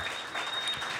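A live comedy audience in Sherbrooke applauds in a soft, continuous wash of many hands, fairly distant and evenly sustained over the short moment.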